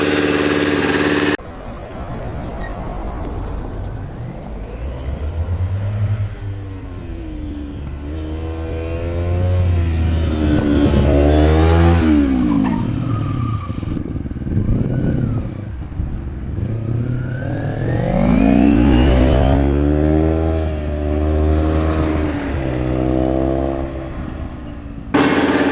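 Kawasaki Ninja 250R motorcycle with a new M13 exhaust, revving up and down through several swells of rising and falling engine pitch, fairly close and loud, with idling between pulls.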